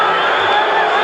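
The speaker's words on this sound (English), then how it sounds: "Listen to the crowd here." Arena crowd at an NBA game between the Bucks and Spurs, a dense, loud roar of cheering and shouting filling the space without letup.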